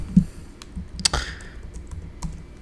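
Computer keyboard keys tapped in a few scattered clicks and a brief burst, close and fairly quiet over a low background hum, with no talking.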